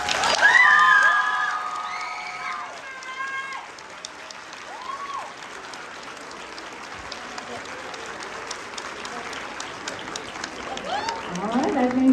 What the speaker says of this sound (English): Let's give it another round of applause to the coach of the year